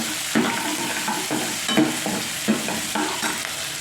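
Garlic, ginger and green chilli frying in oil for a homemade apple pickle, a steady sizzle broken by repeated scraping stirs of a spoon in the pan, close and alone.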